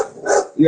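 Dogs barking close by indoors, a couple of sharp yips and a bark packed into under a second, loud against the quiet room.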